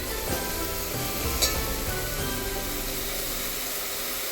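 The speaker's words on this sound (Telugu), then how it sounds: "నేను ఈ అల్లం వెల్లుల్లి పేస్ట్ కొత్తిమీర కూడా వేసేసాను" Ginger garlic paste and coriander sizzling in a hot pan for chicken biryani: a steady, close, fairly loud hiss and crackle with faint stirring scrapes and no voices.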